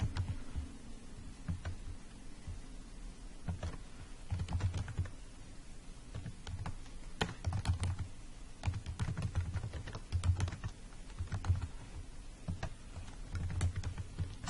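Quiet, close keyboard typing as someone fills in an online registration form, with short bursts of key clicks separated by pauses over a faint steady hum.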